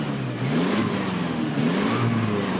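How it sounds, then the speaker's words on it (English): A 1994 Nissan Atlas cab-over fire truck, a Japanese import, runs with a steady, close, loud engine drone that swells slightly in a couple of places, with no talking over it. "Okay, engine's running."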